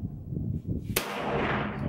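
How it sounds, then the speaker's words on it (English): A single sharp gunshot from a Ruger PC Carbine with a 16-inch barrel firing Fiocchi ammunition during chronograph testing, a loud crack followed by a short ringing decay outdoors. "We'll go ahead and take 5 shots with the Fiocchi."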